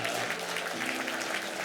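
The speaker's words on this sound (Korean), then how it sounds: "우리 가장 큰 박수로 축하해 주시면 감사하겠습니다" A church congregation claps loudly and steadily at a Sunday retirement thanksgiving service, a dense continuous wash of many hands with no pauses, with a faint voice underneath.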